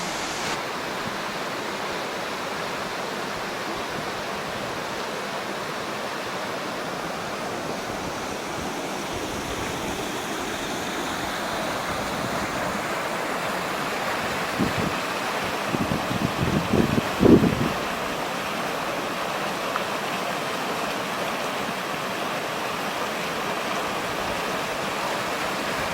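Stream water rushes steadily along a wooded hiking trail in Pennsylvania's Old Loggers Path, a broad continuous wash heard up close, with a few brief louder splashes and gurgles near the middle as bottles are filled.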